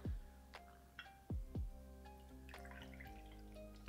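A drink is poured for a round of shots during a toast: a few quiet splashing, trickling gurgles of liquid into a glass, close and soft, with no voices.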